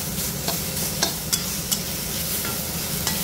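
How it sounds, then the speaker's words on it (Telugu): Chana dal frying in a pan with salt and turmeric, a steady close sizzle with soft scraping stirs and a few sharp clicks of the spoon against the pan. "బాగా వేగనివ్వాలి."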